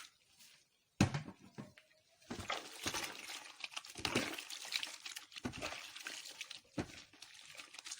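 Homemade washing powder is stirred into water, irregular sloshing, splashing and clinking bursts close by, fairly quiet, after a brief faint noise and a pause at the start.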